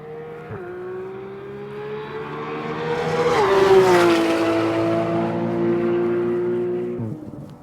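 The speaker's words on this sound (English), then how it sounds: "this car sounds amazing" A Porsche GT3 RS engine revs up steadily, its pitch climbing and then holding at a loud, throaty drone before cutting off abruptly.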